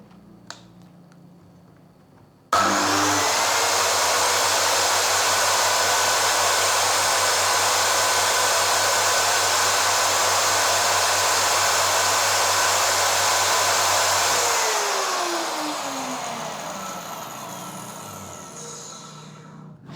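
A Bosch circular saw spins up suddenly and runs at a steady high-pitched whine near 5,800 RPM for about twelve seconds, then winds down with a falling tone.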